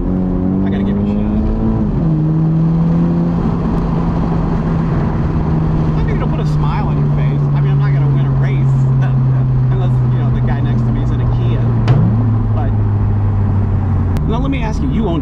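A 2020 BMW Z4 sDrive30i convertible with a 255-horsepower engine pulls hard. Its loud, close engine drone holds a steady pitch that slowly sags and then jumps after a shift.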